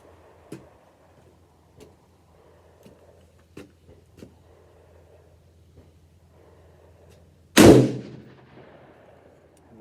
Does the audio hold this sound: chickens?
no